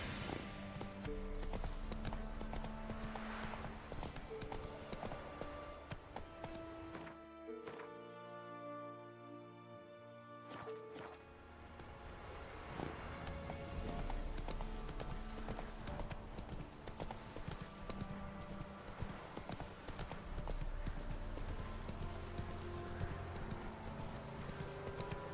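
Roach, a horse in The Witcher 3, walks with steady, close clip-clopping hooves over a game soundscape, pausing briefly before the hoofbeats resume with an occasional snort.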